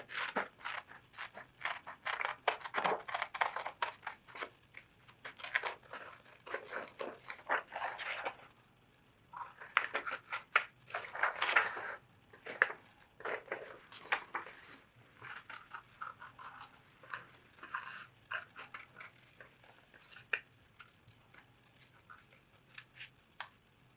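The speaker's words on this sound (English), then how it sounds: "Now we cut this circle out as best as you can." Scissors snipping a circle out of paper or card, traced around the inner ring of a tape roll, in close repeated crisp cuts with short pauses, quiet and without talk.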